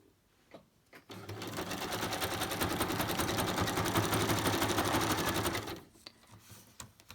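A sewing machine stitches a zigzag around napkin collage ephemera, a fast steady whirring run of about five seconds, with faint handling clicks before and after.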